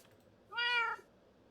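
A Minecraft cat lets out a single clear meow lasting about half a second, close and distinct, over faint background hiss.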